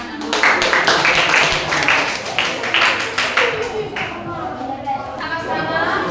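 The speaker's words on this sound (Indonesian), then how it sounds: "Oke, kalau begitu kita berikan tepuk tangan." Audience applause at a classroom group presentation, a dense patter of many hands clapping steadily for several seconds, with chatter mixed in and a voice rising near the end.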